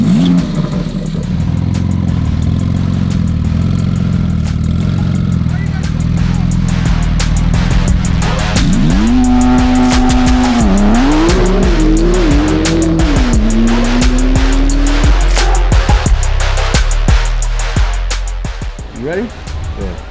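A Porsche 992 Turbo S and a BMW M5 race hard, engines roaring and revving close by while tires squeal in a long wavering screech, with people talking and shouting over the din.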